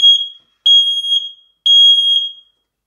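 An X-Sense XS01 mini smoke alarm under test sounds three loud, piercing electronic beeps in an even rhythm, each about half a second long with short silent gaps between.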